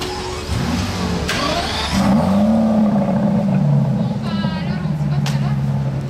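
A Ferrari SF90 Spider pulls past nearby with a short engine rev and rising whine, loud and close, while people chat over it.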